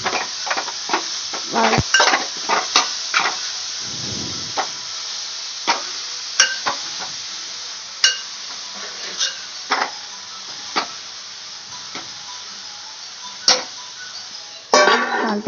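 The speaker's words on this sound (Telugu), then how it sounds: "వేసుకున్న తర్వాత ఒక ఐదు నిమిషాలు మంచిగా ఫ్రై అవ్వాలి" Beetroot curry frying in a pan, a hissing sizzle cut by frequent sharp ticks and pops at an irregular pace, close and fairly loud, no talking.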